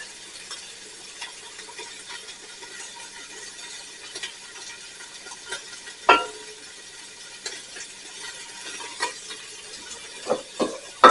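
Onions and chopped garlic go into a hot pan with seared short ribs, making a low steady sizzle punctuated by scattered clinks and one sharp thud as they are tipped in and stirred; no one speaks.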